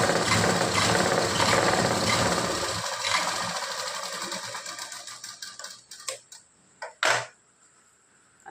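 A sewing machine runs a steady double stitch on a blouse, a fast continuous whir for a few seconds that then breaks into short separate bursts and clicks.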